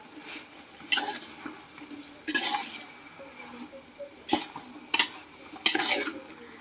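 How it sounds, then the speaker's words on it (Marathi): Raw jackfruit pieces are stirred into a vegetable dish in a pan, with a spoon clanking and scraping in about six distinct bursts over a faint background. "आता हे फणसाचे गरे घालून व्यवस्थित आपण ढवळून घेऊया"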